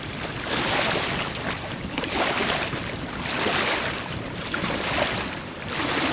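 Steady blustery wind on a stormy lake roars across the microphone with the wash of choppy waves, a continuous broadband rush that swells and eases, no voices.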